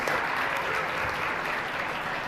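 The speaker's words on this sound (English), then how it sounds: "If you would give him a round of applause." An audience at a youth livestock show claps for the fourth-place goat showman, a dense burst of applause that stays fairly even and continuous across the whole moment.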